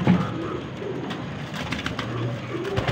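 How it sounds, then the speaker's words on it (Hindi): Soft, low pigeon coos sound close by against a faint background murmur, repeating in short, gentle phrases. "ये देखें माशाल्लाह सारे खड़ी तख्ती के कबूतर हैं"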